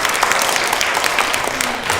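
A seated audience at a Hanbok honorary ambassador ceremony claps warmly, loud and dense, a steady sustained burst of many hands without talk.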